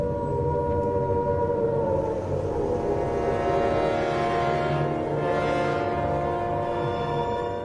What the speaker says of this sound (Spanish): las sirenas que avisaban de ataques aéreos habían empezado a oírse